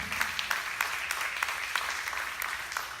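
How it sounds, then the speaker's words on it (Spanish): A church congregation at a Sunday sermon claps together, a steady crowd applause with sharp individual hand claps popping out rhythmically above the wash, moderately distant and without speech. "dale un aplauso al Señor"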